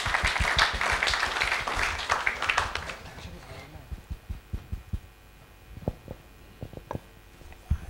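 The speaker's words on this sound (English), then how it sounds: "Can we please give him a round of applause?" Conference audience at a G20 event applauding, a burst of many hands clapping that fades within a few seconds into scattered claps and thumps.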